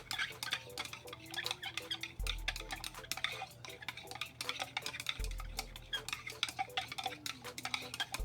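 Liquid hand wash ingredients being mixed in a container, a busy run of quick clinking, tapping stirs with a rhythmic ticking quality, close and fairly quiet.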